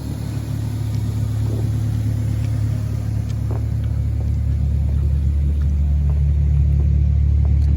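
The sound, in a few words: Mitsubishi GTO Twin Turbo engine rumbling and revving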